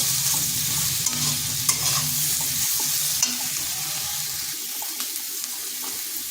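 Ivy gourd and soybean chunks fry in a pan, a steady hissing sizzle stirred with a few light scrapes and clicks, close and moderately loud with no talking.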